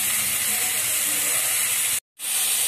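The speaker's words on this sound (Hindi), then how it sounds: "तो देखिए हमारा गोभी फ्राई हो रहा है" Cauliflower florets frying in a pan while dal khichdi is being cooked give off a steady, close hiss and sizzle across the whole stretch, broken by one short moment of silence near the end.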